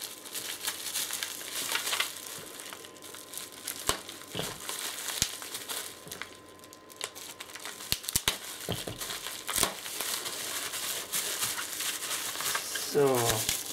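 Packaging paper rustles and crinkles steadily around model train locomotives as they are wrapped, close and fairly loud, with a few sharper crunches and tears scattered through a long continuous stretch.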